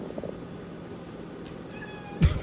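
A hungry cat gives a faint, brief meow over a low background hum, followed by a soft thump near the end.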